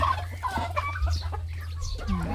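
Rhode Island chickens cluck on a farm, several birds giving short repeated calls over a steady low background hum, fairly close and clear.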